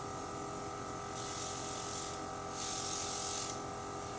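A Luminess airbrush sprays foundation makeup in two short hissing bursts of about a second each, over a constant low compressor hum close by.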